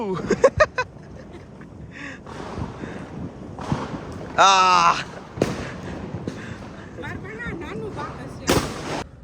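Diwali firecrackers bursting outdoors at night, with a rapid crackling string of sharp pops at the start, a whistling, crackling burst midway and another loud blast near the end, while people talk and shout over a steady background of wind and crowd noise.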